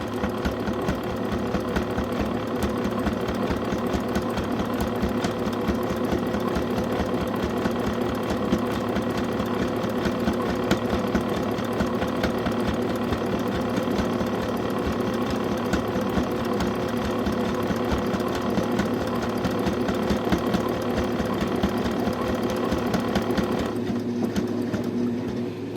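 A sewing machine stitches a quilted potholder in one long unbroken run, its fast, even needle chatter and motor hum staying close and constant throughout.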